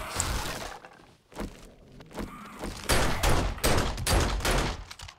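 A big gun fires in the survival game 7 Days to Die, with loud, heavy repeated blasts and thuds, a burst near the start and denser rapid fire through the second half, close and prominent.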